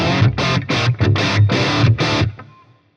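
An electric guitar with a low gain tone plays through a Blackstar digital combo amp: a loud, slightly distorted riff of about seven chords, close up and alone, ringing out and fading at the end.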